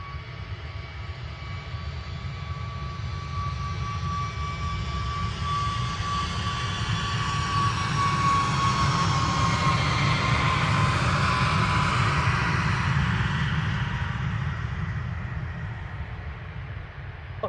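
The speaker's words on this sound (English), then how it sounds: "I'll get this Ryanair, and then I'm going to finish." A Ryanair jet passing at Manchester Airport, a loud roaring engine that swells to a peak mid-clip and slowly fades, with a steady whine over the rumble and no voices.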